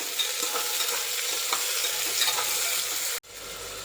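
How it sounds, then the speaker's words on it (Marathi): Chopped onion sautés in hot oil for a spiced masala rice, a steady loud sizzle with soft stirring scrapes that cuts off sharply near the end, leaving faint room tone. "नंतर त्याच्यात एक मोठा आकाराचा कांदा कट करून घालायचा आणि कांद्याला थोडासा गुलाबी होईपर्यंत परतून घ्यायचा"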